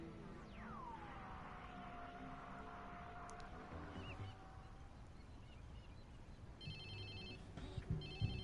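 A phone in Watch Dogs 2 rings with a repeated electronic tone that sweeps in and then holds steady, sitting over game ambience and background noise, with no one speaking.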